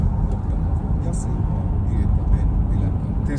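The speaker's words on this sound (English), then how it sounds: "So we are driving in Joensuu." A car drives through the streets of Joensuu, Finland, its steady low road rumble and engine drone filling the cabin without a break.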